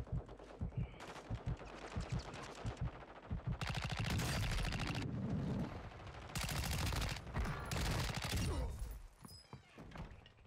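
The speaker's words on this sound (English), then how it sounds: "Who's shooting me in my back now?" Rapid, dense gunfire in Call of Duty Warzone (MW2, Season 4): bursts of automatic fire come in close, loud bursts that pile into continuous volleys, with a voice occasionally breaking through.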